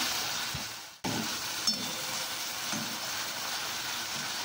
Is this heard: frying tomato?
yes